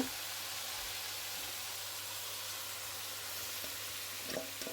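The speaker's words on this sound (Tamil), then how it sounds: "கடுகு உளுந்து சேர்த்துருக்கேன் நல்லா கடுகு பொரியட்டம்" Mustard seeds and urad dal crackle and splutter in hot oil in a pan, a steady dense sizzle with a few louder pops near the end, no talking.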